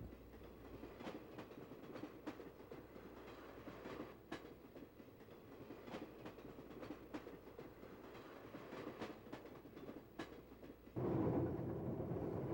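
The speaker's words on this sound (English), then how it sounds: "Two more E-44s roll a fast freight through Columbia." A freight train hauled by two E-44 electric locomotives rumbles steadily along the track with repeated rhythmic clicks of wheels over rail joints, growing louder and heavier near the end.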